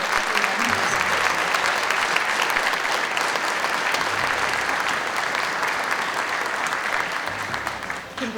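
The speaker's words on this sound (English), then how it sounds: "let's have one more big round of applause for everyone" Sustained applause from a large crowd at a police graduation ceremony, steady and fairly loud, fading slightly at the very end.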